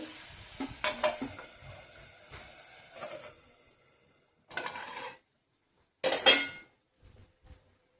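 Prawns frying in oil in a pan while being stirred, with bursts of sizzling and scraping spatula strokes separated by quiet gaps, including a loud clatter near the end.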